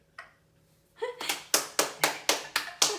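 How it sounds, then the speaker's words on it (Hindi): At a graduation ceremony, a small group claps in slow, loud, evenly spaced beats, about seven sharp claps in a row after a brief pause, with a short voice just before. "तालियां तालियां।"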